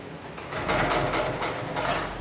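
Extra heavy duty sewing machine stitching harness and sling material, a short run of rapid, evenly spaced mechanical thumps at close range, alone without talk.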